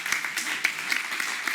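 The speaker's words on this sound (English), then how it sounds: "Let's give him a round of applause for now" Audience applause at a radiotherapy conference session, a brief patter of claps from a modest crowd with a few sharp individual claps, fairly close and moderately loud.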